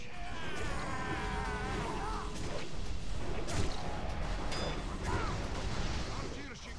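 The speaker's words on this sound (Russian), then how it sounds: "Корабль под обстрелом! Заклинателя сюда! Пусть заткнет эти пушки!" Dense, chaotic battle din aboard a ship under bombardment in a video game, with repeated booming cannon and mortar blasts and crashes, continuous and loud throughout.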